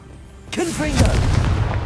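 In Hogwarts Legacy a Confringo blasting spell detonates with a sudden loud blast about a third of the way in, followed by a sustained crackling rumble, with a brief shouted voice over the start of the explosion.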